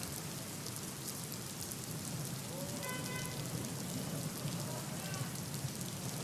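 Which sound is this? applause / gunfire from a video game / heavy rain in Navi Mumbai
heavy rain in Navi Mumbai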